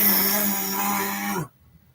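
A distorted instrument played through a Chromebook's poor built-in microphone gives a harsh, buzzy, sustained wash with a steady low drone, loud and close, then cuts off abruptly to near silence.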